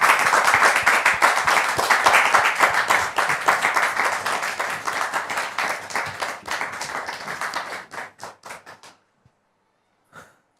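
An audience claps loudly and steadily, the applause gradually thinning to a few scattered claps before falling silent.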